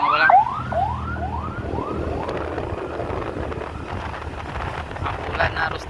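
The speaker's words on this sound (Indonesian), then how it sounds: "Awas, ada ambulan Abang Bolang." An ambulance siren wails on a road in a flash-flood area, rising and falling in quick repeated sweeps, loud and close at first and then fading under steady traffic and wind noise.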